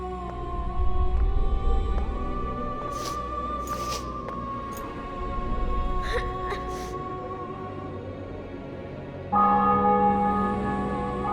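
Church bells ring out over a captured city and fortress in The Witcher 2: Assassins of Kings, sustained resonant tolls with a low rumble beneath, a fresh louder strike near the end, and faint voices in the background.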